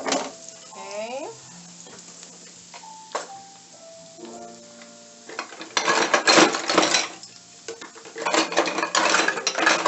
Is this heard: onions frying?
yes